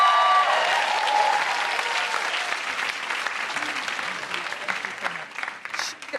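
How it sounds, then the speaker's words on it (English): A comedy-club audience applauds to welcome a comedian onstage, a thick burst of clapping that starts strong and slowly thins out over several seconds. "you've got to give a louder welcome applause"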